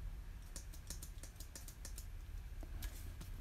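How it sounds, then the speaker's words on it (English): Typing on a very thin wireless, battery-operated Apple keyboard: a quiet, close series of light, crisp key clicks in an uneven rhythm, with no talking. "So here I just have my, well, Apple keyboard."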